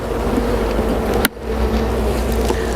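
Defensive honeybees at an open hive frame, a dense, continuous drone of buzzing heard up close, briefly broken by a sharp click near the middle before the hum resumes.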